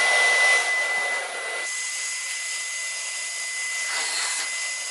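A Henry HVB-160 cordless vacuum on boost mode whines at high power, loud and steady, with a brief dip in pitch as the airflow shifts partway through.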